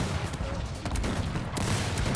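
Rapid volleys of musket gunfire in the video game Cossacks 3 crackle and boom in a dense, continuous barrage, loud and close, with a sharp burst standing out near the end.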